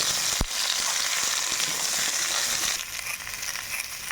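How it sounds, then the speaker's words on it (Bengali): Chopped ridge gourd sizzles steadily in hot oil in a pan over potatoes, with a sharp knock of the spoon near the start and the loud, even frying continuing throughout. "যে ঝিঙেটা আমি কেটে রেখেছিলাম সেই ঝিঙেটা দিচ্ছি। একটু নাড়াচাড়া দিয়ে নিচ্ছি।"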